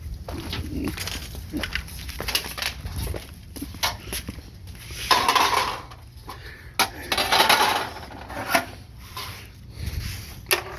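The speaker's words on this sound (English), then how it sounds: "Take it, snip it, come up on a 45, this little angle." Tin snips cutting 2.5-inch aluminum trim, a series of sharp close metallic snips and clicks spaced irregularly, with rustling handling of the sheet between cuts and no voices.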